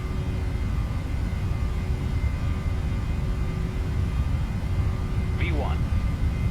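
Boeing 737 jet engines at takeoff power in the FSX flight simulator: a steady, loud broadband roar with low rumble that holds evenly throughout, with a brief rising chirp near the end.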